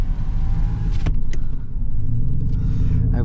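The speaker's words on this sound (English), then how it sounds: "They sound like studded tires." Tires of a 2016 Chevrolet Silverado 2500HD with a 6.0L Vortec hum steadily on the road, a loud continuous low rumble heard from inside the cab with a few brief knocks and no talking.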